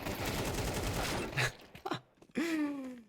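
Glock pistols in Counter-Strike on the de_Ancient map crack off in a dense rapid run of shots for about a second and a half, followed by a short excited voice.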